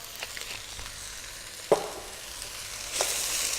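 Yellow and red peppers stirred in a pan with salt and pepper for peperonata, giving a soft scraping stir with one sharp clack of the utensil and a faint sizzle rising at the end.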